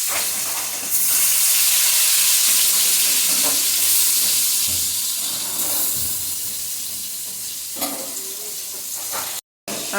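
Young jackfruit pieces sizzle and hiss steadily in hot oil in a pan, frying until reddened for a Bengali kalia; the sizzle stays loud and continuous, with a brief dropout near the end.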